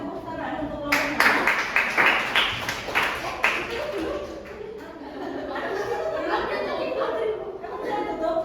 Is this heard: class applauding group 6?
yes